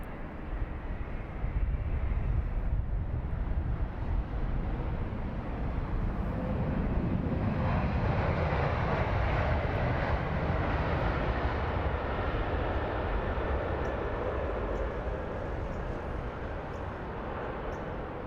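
A Virgin Dreamliner's jet engines roar steadily at London Heathrow, a broad, continuous rumble and whine that swells slightly midway and holds loud throughout, with no voices.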